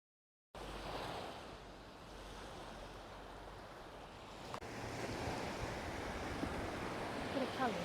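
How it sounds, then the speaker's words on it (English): Surf rolls onto the beach at Paguera, Mallorca, a steady wash of breaking waves mixed with wind buffeting the microphone, growing slightly louder midway with a brief knock. "We're at the beach"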